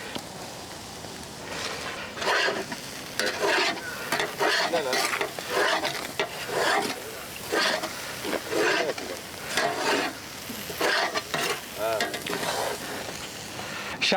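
Shark fish burji sizzles in a pan as coriander and curry leaves are stirred in, with loud scraping stirring strokes in an uneven rhythm over steady frying, close and dominant.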